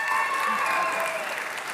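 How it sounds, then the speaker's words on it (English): Applause from a church congregation welcoming a woman to the front for a morning service, steady and fairly close, filling the whole moment with a dense patter of clapping. "You guys give Claudia a big round of applause."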